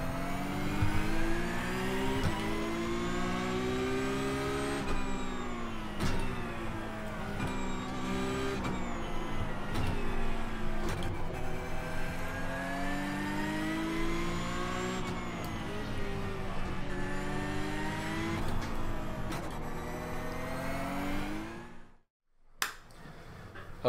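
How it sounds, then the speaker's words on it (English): Porsche 911 GT3 Cup car engine in iRacing, revving steadily and loudly with rising and falling harmonic whine through gear changes, then briefly cutting out near the end before picking up again. "iRacing GT3 Cup car."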